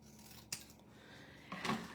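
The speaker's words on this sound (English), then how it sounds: "Looks like I need to trim just a shade off of there." Two quick scissor snips trimming a shade off scrapbook paper, a short sharp cut followed by a slightly longer one, quiet and close with no talking.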